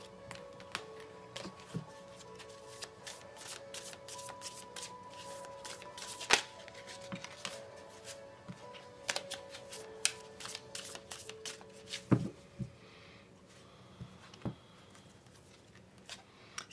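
A deck of tarot cards shuffled by hand nearby, a quiet run of papery riffles and soft flicks with sharper snaps scattered throughout, no voices.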